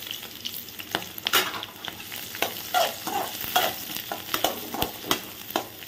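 Onions stir-fried in hot ghee sizzle steadily while a utensil scrapes and stirs in repeated bursts, close and clear, with no talking.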